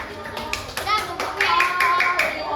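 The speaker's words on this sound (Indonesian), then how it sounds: "tepuk tangan untuk Mas Kak" Children in a classroom clap together for a classmate, a short burst of close, rhythmic hand claps with young voices chattering underneath.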